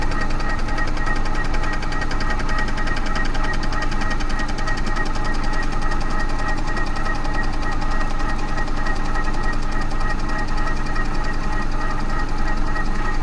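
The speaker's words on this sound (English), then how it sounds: "Again, I'm using a diamond tipped cutter for this, PCD is what they call them." A diamond-tipped PCD cutter skims an alloy Vauxhall Corsa cylinder head, giving a steady, dense machining drone with a constant mechanical hum and fine rhythmic chatter that holds level and close throughout, with no talk.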